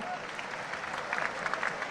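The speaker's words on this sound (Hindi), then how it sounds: "आइए एक बार फिर तालियों से उनका आभार व्यक्त करिए।" Steady applause from an audience fills the hall at a startup conclave in Gandhinagar, a soft continuous patter of many hands clapping at moderate volume.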